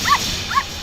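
A cartoon dog gives two short, high yips or barks, evenly spaced, at close range with no talking in between.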